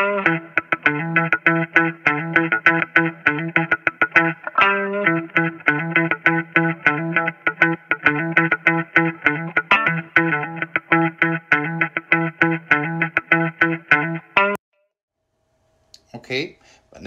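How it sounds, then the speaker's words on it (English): A dry rhythm guitar with no effects strums a steady pattern of bright, evenly spaced chords for about fourteen seconds, loud and close, then stops. A short burst of talk follows. "So, this is the rhythm guitar dry."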